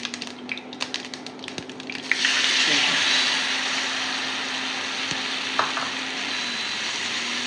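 Tamarind juice, with crushed curry leaves, is poured into simmering dal. A quiet start with faint clicks gives way to a sudden loud rush of liquid, which settles into a steady hiss and bubbling that lasts to the end.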